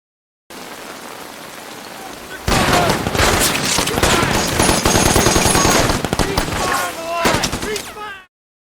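Sustained burst of gunfire from soldiers shooting at night in the rain, a dense crackle of rapid shots that erupts over a steady hiss of rainfall and continues for several seconds before cutting off.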